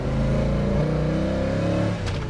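1968 Chevrolet Chevelle SS V8 pulling hard through third gear, a loud close engine roar climbing in pitch, then a brief dip as the throttle lifts near the end.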